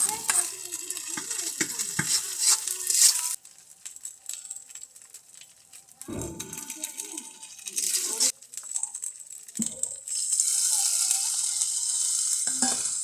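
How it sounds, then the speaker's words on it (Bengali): Ginger paste fries in a pan with prawns for a prawn bhuna, making a quiet sizzle broken by bursts of stirring and scraping that come and go in uneven stretches. "তো রান্না করতে এখন দিয়ে দিচ্ছি আদা বাটা"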